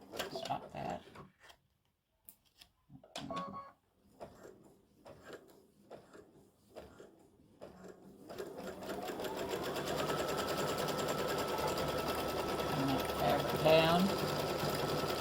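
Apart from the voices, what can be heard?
embroidery machine stitching an appliqued St Patrick's Day gnome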